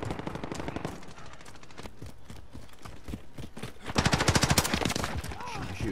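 Rapid automatic gunfire from a shooter video game, dense bursts of shots rattling throughout with a louder, faster volley near the end, no talking over it.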